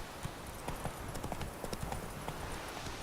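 Roach, a horse in a video game, trotting with a quick, steady clip-clop of hooves over a faint ambient bed, close and evenly paced.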